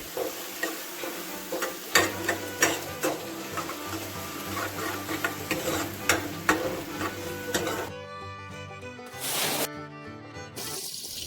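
Ginger garlic paste frying with lightly browned onions for a dhaba-style egg curry, with repeated sharp spoon scrapes over a sizzling bed and a brief burst of louder hiss near the end.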